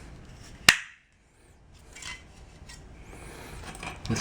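Parts of a three-piece metal shower drain grate give one sharp, close metallic clink, followed by a pause and then faint scraping and handling noises.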